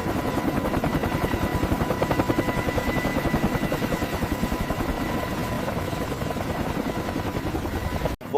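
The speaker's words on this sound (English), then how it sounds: "rotor wash blasting the deck as the giant helicopter banked toward its distant home base" Heavy Mi-26 helicopter climbing away over a deck, its rotor throbbing in a steady fast beat with loud whining engine drone throughout, cutting off abruptly near the end.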